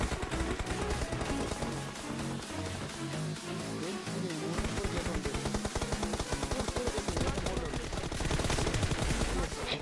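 Sustained PUBG Mobile gunfire, rapid automatic shots rattling steadily and close, with a voice talking over it.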